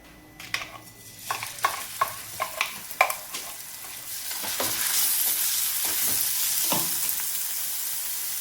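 Chopped onion, green chili and garlic drop into hot oil with a few sharp clattering hits, then a steady loud sizzle of frying continues, with occasional stirring.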